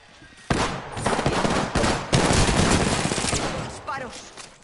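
Gunfire in a video game: after a brief quiet start, loud rapid bursts of automatic fire roll continuously and close, with a short gap midway before resuming, and a voice briefly audible near the end.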